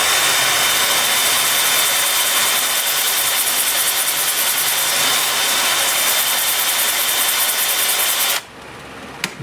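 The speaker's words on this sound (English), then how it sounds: "so I'm going to put my drill in forward" A power drill spins forward while a cherry wood bowl is turned, giving a loud, steady high-pitched whine with a rough tearing edge that cuts off abruptly near the end.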